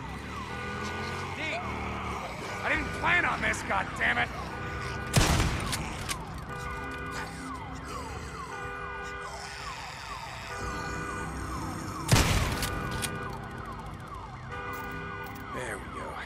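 Alarm siren wailing in the video game Days Gone, with repeated rising and falling tones mixed with loud impacts and gunfire-like bursts, while someone shouts over it.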